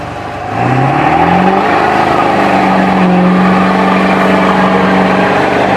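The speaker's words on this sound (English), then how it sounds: "I'm going to do a fat burnout for you guys." A 7.3 Powerstroke diesel truck revs hard during a burnout, its engine note sweeping upward and then holding a loud, steady roar close by with no talk.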